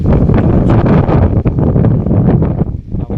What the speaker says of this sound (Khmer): ហើយនៅទីនេះគឺខ្យល់ត្រជាក់